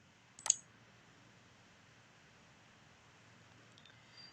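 A single sharp computer mouse click in a quiet room, followed by near silence and a faint tick at the end.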